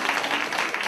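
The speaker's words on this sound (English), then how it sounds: "Let's give her a big round of applause." Students and faculty at a school assembly applaud, a brief, dense wash of clapping heard close and steady for under a second.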